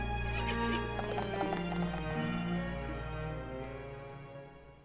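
A horse in the video game Professor Layton vs. Phoenix Wright: Ace Attorney whinnies loudly up close while rhythmic hoofbeats clatter beneath, the sound gradually fading toward the end.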